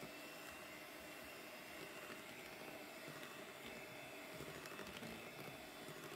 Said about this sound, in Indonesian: Nah, ini kita mixer hingga tercampur rata.